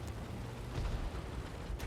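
A dull, booming impact with a low rumble as a frontal shot hits a VK 36.01 H tank in a video game, wrecking its engine, followed by steady mechanical noise and a faint crack at the end.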